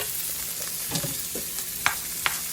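String beans fry in a home pan for a steak and potatoes dinner, giving a steady close sizzle with a few sharp crackles and pops and light stirring.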